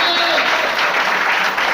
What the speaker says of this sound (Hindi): तालियां बजाकर खुदा का धन्यवाद करिए